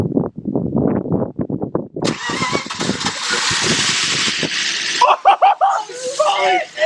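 Starter cranking under excited talk gives way to a BMW engine catching and roaring steadily, loud and close, with voices continuing over the running motor.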